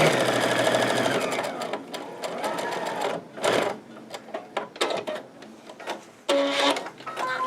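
Sewing machine stitching a fabric market tote: a loud, fast mechanical whir in several bursts, stopping and restarting with short pauses and handling noises between runs.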